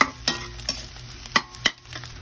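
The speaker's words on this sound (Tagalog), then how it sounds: "nalagyan natin kanin, nahalo na rin natin." Rice gets tossed and scraped in a pan while cooking chaw fan, a handful of crisp metallic stirring strokes spaced irregularly over a low sizzle, nearby and soft.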